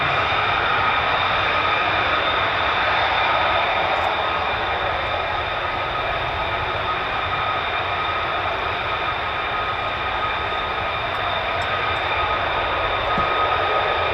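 Steady, loud roar of F-15 and F-35 fighter jets at RAF Lakenheath, a continuous broadband rumble with a high whine held for the whole stretch, no voices.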